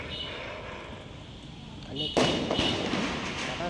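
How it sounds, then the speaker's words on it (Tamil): In BGMI gameplay, a firecracker's sharp cracking burst cuts through the game's ambient background noise, followed by a few smaller pops, with a voice talking throughout. "இது பட்டாசு பட்டாசு"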